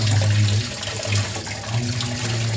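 Tap water running steadily into a sink while squid is washed, a continuous splashing gush with low hum-like tones that dip and return, no voices.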